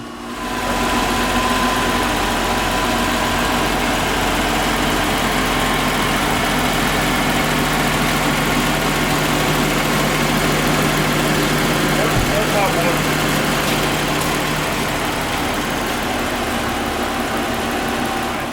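Car engine idling steadily while powering an inverter during a blackout, a constant low rumble and hum close by, with a voice talking over it.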